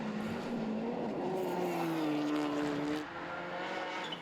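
A Skoda Fabia rally car on a stage, engine note rising and holding a strained pitch before dropping as it shifts or backs off, loud and steady, no one talking.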